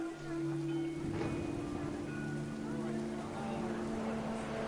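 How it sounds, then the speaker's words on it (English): Heavy rain pours down in the video game What Remains of Edith Finch, a steady broadband hiss running throughout beneath sustained musical tones. "The rain came down in buckets then"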